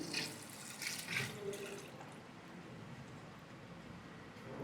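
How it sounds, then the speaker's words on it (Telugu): Water poured into milk for a chilled almond milk drink, a steady liquid splashing and trickling that is louder at first and then settles into a softer continuous flow, with no talking. "4 లీటర్ల వాటర్లో 2 లీటర్ల వాటర్ కలుపుతున్నారు."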